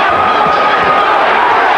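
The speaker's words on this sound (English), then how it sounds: "The crowd on its feet." Boxing crowd at a live fight between Darrin Van Horn and Iran Barkley, roaring and cheering on its feet in a dense, loud, continuous wall of noise.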